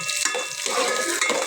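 Ginger being stirred in a cooking pot while preparing native chicken, a brief close scraping and sizzling stir lasting a moment.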